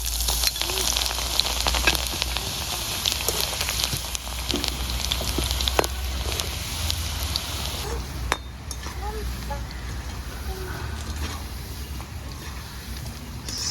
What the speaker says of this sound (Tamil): இப்போ இதையும் வந்து கோல்டன் ப்ரௌனாக பொரிச்செடுக்க போகிறா